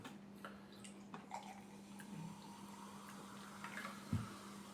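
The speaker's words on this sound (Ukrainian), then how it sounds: "Наливаємо ще." Strongly carbonated, sugared berry energy drink (ENERGO BERRY) poured into a glass: a faint, steady fizzing hiss over a low hum, with a soft knock near the end.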